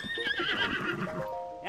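Horse whinny in The Legend of Zelda: Tears of the Kingdom, a loud close neigh lasting over a second with hoof clip-clop mixed in, sounding alone without any talk.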